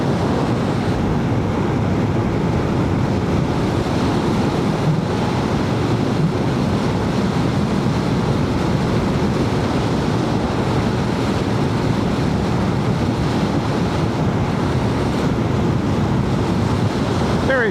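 Water pouring through a dam spillway, a dense continuous rushing roar mixed with heavy wind buffeting on the microphone, steady and loud throughout, with no voices.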